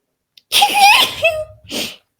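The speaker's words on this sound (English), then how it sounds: "I'm gonna sneeze." A loud close sneeze with a sharp burst and voiced tail, followed by a brief breathy exhale.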